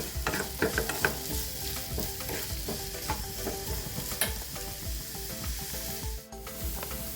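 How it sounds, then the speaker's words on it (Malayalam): Two medium onions, finely chopped, sauté in a pan while being stirred for an Irani pola masala, giving a steady close sizzle with scraping stir strokes throughout and no talking. "ഒരു മീഡിയം സൈസിലുള്ള 2 സവാള ചെറുതാക്കി അരിഞ്ഞതാണ്. അതൊന്ന് വഴറ്റിയെടുക്കണം."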